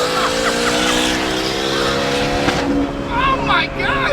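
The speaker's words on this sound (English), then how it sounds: "we're going for a ride in this 420 some horsepower car." A turbocharged car of about 420 horsepower accelerates at a Houston car meet, its engine droning with rising tones up close while tires chirp and squeal, and people talk excitedly over it.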